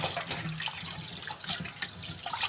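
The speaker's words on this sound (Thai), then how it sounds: "ก็เปิดน้ำนะครับ" Tap water runs steadily over raw chicken pieces in a sink, a close continuous splashing with small irregular spatters as the meat is rinsed.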